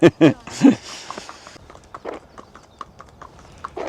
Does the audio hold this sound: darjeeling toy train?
no